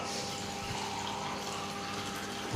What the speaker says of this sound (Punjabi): ਪਾਣੀ ਹੋਰ ਐਡ ਕਰਦੇ ਆ ਇਹਦੇ ਵਿੱਚ